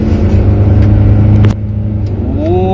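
A Wuling Almaz medium SUV accelerates hard in sport mode with its turbo engaged. The engine roars loud and steady up close, and a rising whine climbs in pitch toward the end.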